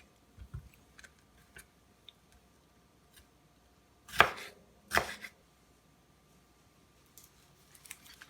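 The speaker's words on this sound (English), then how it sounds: "Now let's chop a little bit more of" A knife chops fresh cilantro on a cutting board for guacamole, giving a few scattered soft taps early on, then two louder clustered bursts of close chopping, with faint taps again near the end.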